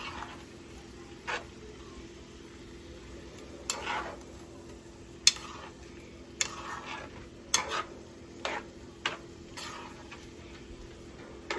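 Sausage sizzles steadily in a pan with butter sauce, a constant close hiss. Scattered utensil taps and scrapes cut through it at irregular intervals.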